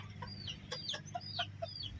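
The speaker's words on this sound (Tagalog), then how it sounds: "may mga manok din tayo dyan" Chickens cluck and chirp in short, scattered calls close by, over a low steady hum in a rural farmyard setting.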